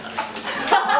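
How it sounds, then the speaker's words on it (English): A frightened dog lets out short whimpers and yips in quick succession, up close and fairly loud, within a brief burst. "This is one freaked out dog."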